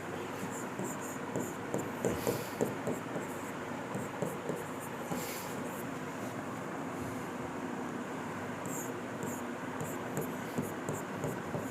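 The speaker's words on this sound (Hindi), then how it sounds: "साफ साफ नेक्स्ट स्क्रीन पे लिखते हैं।" A pen or stylus writes on a screen during a mathematics lecture on difference equations, giving steady scratchy strokes with small rhythmic ticks over a constant background hiss that continues throughout.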